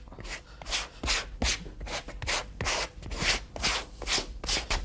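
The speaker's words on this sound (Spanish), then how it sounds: "Ahora le estamos raspando," Leather wineskin being scraped smooth by hand, a steady series of short rasping strokes repeating about twice a second, close and fairly quiet with no talk.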